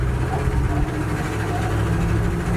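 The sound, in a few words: old truck transmission noise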